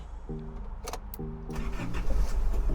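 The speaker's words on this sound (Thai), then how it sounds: "มาดูไปพร้อมๆ กันเลยว่าเสียงเครื่องยนต์แล้วก็เสียงสตาร์เจ้าคันนี้จะดีแค่ไหน" A 2015 Isuzu D-Max 2.5 pickup truck's engine cranks with a whirring starter, then catches and settles into a steady, close rumbling idle. No one speaks.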